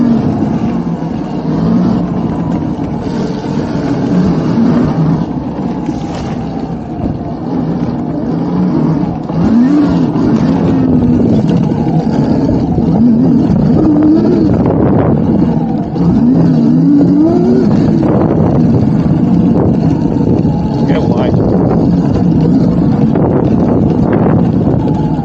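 Kawasaki KXe electric dirt motorcycle accelerating hard into a wheelie off-road, a continuous rising motor whine under heavy wind buffeting on the microphone.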